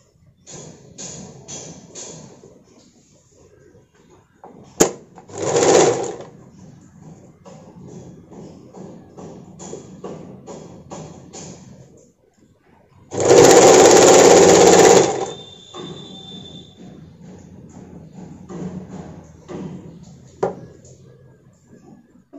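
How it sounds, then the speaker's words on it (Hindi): A sewing machine stitches a sleeveless blouse in short intermittent bursts of rapid mechanical whirring, with one long loud run near the middle, separated by quieter handling sounds and soft clicks. "दूसरा साइड सिलाई करना है।"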